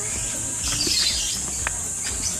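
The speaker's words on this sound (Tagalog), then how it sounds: "Aba, merong ibon." A bird calls with a few brief chirps near a floating resort cottage on the water, faint against a steady hiss of wind or insects.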